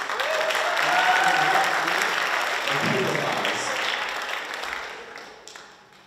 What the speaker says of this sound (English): Round of applause for our winner,